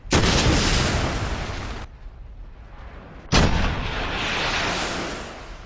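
An anti-tank rocket launcher in the Resident Evil 2 Remake video game fires twice, each shot a loud, sudden blast with a long roaring tail, separated by a short lull.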